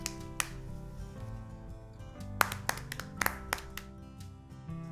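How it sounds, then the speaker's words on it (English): Children clap their hands in a short, uneven burst of sharp close claps, with a few single claps before and after, over quiet background music. "These children clap their hands."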